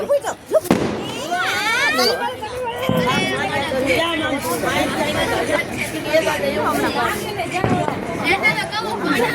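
Firecrackers go off during Sankranti celebrations in Gujarat, with sharp pops and bursts scattered through lively crowd chatter and voices.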